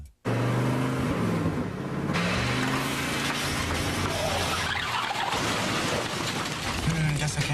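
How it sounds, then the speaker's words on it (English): A car engine in a TV commercial, revving and straining as it accelerates to pass, loud and continuous with a voice speaking over it. "I know I heard some engine hesitation as you tried to pass."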